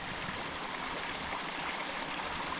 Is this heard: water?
yes